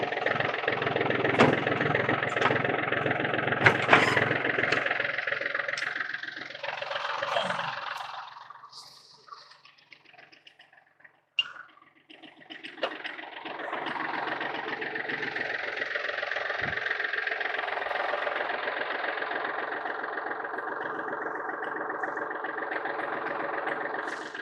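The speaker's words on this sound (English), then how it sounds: "when you're drilling with an auger on your tractor" A steady tractor engine drone drilling a post hole with a mounted auger, a gritty, churning texture that briefly dips and then resumes, running continuously without any voices.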